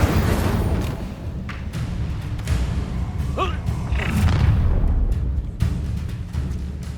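Fiery Incendio spell blasts in Hogwarts Legacy land as a run of dull booming thuds amid a busy combat mix, with a brief whooshing flare near the middle and steady low rumble throughout.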